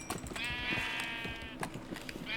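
A Minecraft sheep bleats once, a clear wavering baa lasting over a second, with soft clicks and thumps of game activity around it and no talking.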